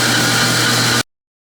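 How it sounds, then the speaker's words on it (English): A bandsaw fitted with an ordinary metal-cutting blade cuts through metal stock, a steady continuous grinding hum that stays loud and even for about a second before stopping abruptly. "it's just a regular metal cutting blade, but I think it still should be fairly fast. But it's never fun cutting off on the bandsaw"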